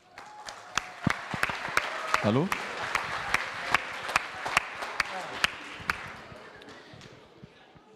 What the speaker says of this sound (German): Gerne einen Applaus dafür